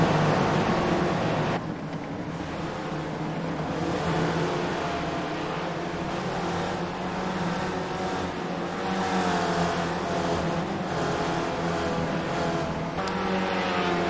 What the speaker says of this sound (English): Aaron Kobayashi in the Gulf livery, followed by Ryan Sorrell with Gianni Sellito in the yellow car attacking on the inside